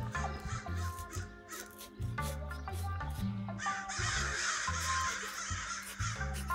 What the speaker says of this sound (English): Crows are laughing at me.